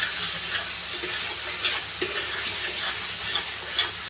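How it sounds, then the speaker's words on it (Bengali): Spice paste of cumin, coriander, tomato, ginger and green chilli with turmeric and salt is stir-fried in a pan, giving a steady close sizzle broken by scraping stirs and occasional clicks, with no talking. "এবার এটা কষানো হচ্ছে।"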